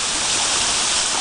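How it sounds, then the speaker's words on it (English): Sediment-darkened water pours from a pipe into a small creek tributary, making a steady, close, continuous rushing hiss with no voices over it. "in this tributary flowing into Bowles Creek"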